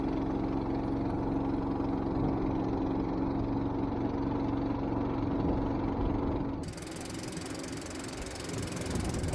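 An electric golf cart drives along with a steady, low motor hum and drone at a constant level. Partway through, the tone shifts as the motor note drops and a broad hiss takes over.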